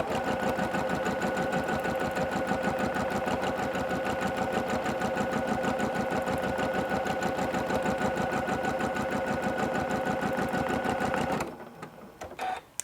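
A sewing machine stitches continuously during free motion quilting, a fast, even mechanical chatter held loud and steady for about eleven seconds before stopping abruptly, leaving faint handling noises.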